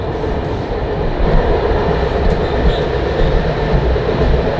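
Steady rumble of the Lake Van Express train rolling along the rails in Turkey, a continuous loud low-pitched roar with faint rhythmic clatter, no voices.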